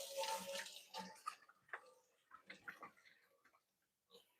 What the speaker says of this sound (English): So I'll give my hands a quick rinse.